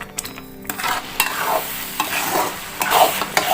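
A spoon scrapes and stirs thickening carrot halwa around a pan in repeated uneven strokes over a soft sizzle as sugar and moisture cook down, close and clear with no voices.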